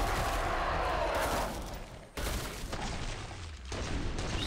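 Rapid automatic fire from a Scar H rifle in the video game Killing Floor 2, loud and sustained bursts that briefly drop out and then resume, heard up close with no talking.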